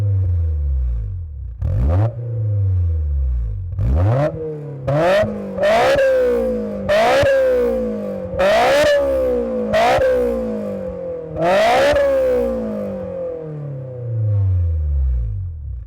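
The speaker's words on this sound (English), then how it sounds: "let's cut to some shots of this thing revving just from a standstill," A Honda S2000 fitted with an HKS Hi Power exhaust revs repeatedly from standstill, close and loud, a series of sharp throttle blips that rise and drop back to a burbling idle.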